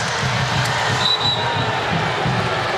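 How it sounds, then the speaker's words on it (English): Volleyball arena crowd at a Hawaii versus UCLA men's match roaring loudly and steadily in protest at an officials' call, a sustained wall of noise with no pause across the moment. "the crowd letting the officials hear it"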